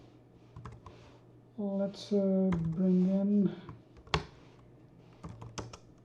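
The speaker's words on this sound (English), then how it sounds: "Darn, too much typing." Keyboard keys on a computer click in quick, light taps near the microphone, scattered around someone speaking briefly.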